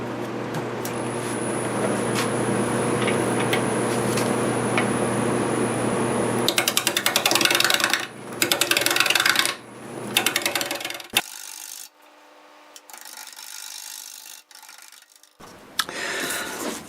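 A wood lathe spins spalted walnut at 600 RPM while a 5/8 bowl gouge cuts, giving a steady rasping, scraping drone that comes in bursts and then drops to near quiet with faint hum before cutting resumes.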